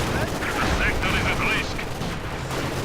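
Gunfire and machine-gun bursts from a Company of Heroes 2 battle with tanks and infantry, a steady dense crackle of shots under continuous commentary.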